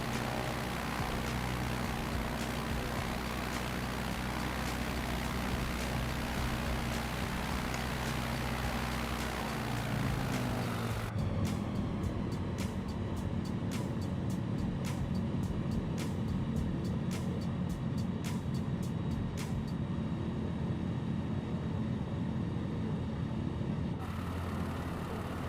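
A propeller aircraft drones continuously while making bush landings in Microsoft Flight Simulator, its engine tone shifting and rising partway through, then holding a steady buzzing roar with no talk.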